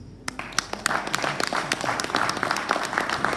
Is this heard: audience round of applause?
yes